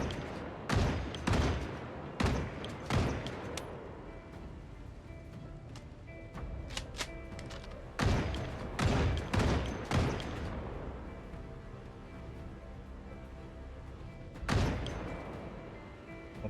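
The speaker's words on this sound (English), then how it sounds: "Yeah, I'm gonna shoot what I can shoot from here." Gunfire in the zombie survival game Project Zomboid during a base defense: a string of loud sharp shots in irregular bursts, some in quick pairs, separated by pauses of low ambience.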